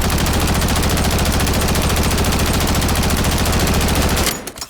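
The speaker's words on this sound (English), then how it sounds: "But that's all the recoil it has, just shooting it." A gun in Call of Duty fires a continuous, rapid automatic burst, loud and close. The rattling volley runs steadily for over four seconds, then cuts off abruptly.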